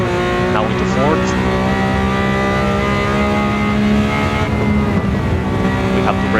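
A Walter Wolf Special Lamborghini Countach 500S pulls hard on a race track after a shift into fourth gear, its engine note loud and steady with rising harmonics as it accelerates, with a voice talking over it.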